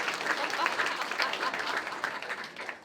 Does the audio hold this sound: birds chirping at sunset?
no